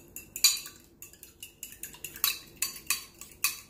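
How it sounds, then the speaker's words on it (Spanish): Two eggs beaten with a utensil in a bowl, a steady run of quick, crisp clinking strokes, close and clear with no talk. "Los vamos a revolver."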